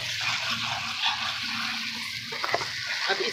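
A spoonful of fresh garlic-ginger paste fries in a pan for Pakistani dal mash, giving a steady, close sizzle with a soft low hum underneath.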